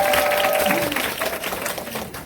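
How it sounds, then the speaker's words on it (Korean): Audience applause at an indoor business seminar in Busan, a dense crowd of clapping hands that is loudest at the start and then gradually thins and fades. "그래서 응원의 박수 한 번 더 부탁드립니다."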